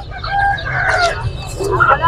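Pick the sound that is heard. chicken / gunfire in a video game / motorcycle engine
chicken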